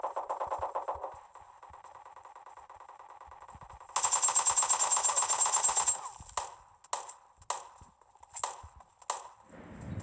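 Rapid automatic gunfire bursts in the PUBG Lite shooter game, a fast rattling volley at first, then a louder sustained stretch, followed by several sharp separate shots, close and without talk.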